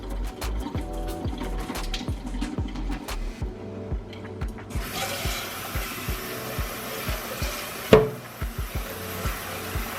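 Grits being rinsed under running water in a kitchen, a steady splashing rush joined by repeated low knocks and clatters, with a louder clunk near the end; close by and no talking.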